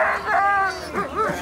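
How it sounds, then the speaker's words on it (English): Sled dogs at the Iditarod in Alaska yipping and barking excitedly, several close voices overlapping in short bursts with whiny, high-pitched yelps. "Oh, they're barking."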